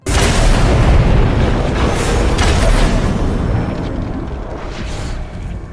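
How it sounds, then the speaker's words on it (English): Explosive arrow shots detonate in the video game Shadow of War, a dense, loud rumbling run of booms and bursts that fills the whole stretch and slowly fades toward the end. "I kill several with the explosive shot."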